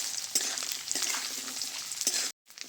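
Coconut pieces fry in hot white oil in a pan, giving a steady close sizzle with occasional louder crackles and pops, then a sudden brief silence near the end.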